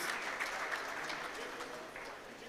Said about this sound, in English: A very warm applause for him once again, please, as he takes his seat